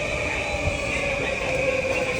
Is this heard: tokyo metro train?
yes